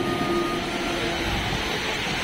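A train pulls into a station during heavy rain, producing a steady, loud rumbling roar with a faint sustained tone running through it for the whole stretch.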